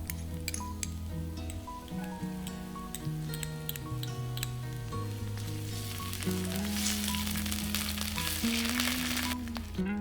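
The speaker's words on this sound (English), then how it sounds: "Then I heat oil and I fry until fragrant garlic and ginger paste." Garlic and ginger paste frying in hot oil, a steady sizzle running throughout with light ticking of a utensil against the pan and a tonal background hum, growing brighter and louder toward the end.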